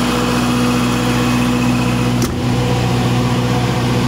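Cummins diesel generator engine running steadily at speed after starting, a loud, constant droning hum with a brief click partway through, no voices.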